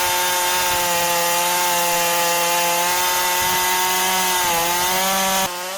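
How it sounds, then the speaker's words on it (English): Chainsaw on a universal sawmill station cutting through a log, a loud sustained engine whine with slight pitch dips as the blade bites, running continuously until a brief change at the end. "The universal sawmill station combines a chainsaw sawmill, sawhorse, and workbench seamlessly."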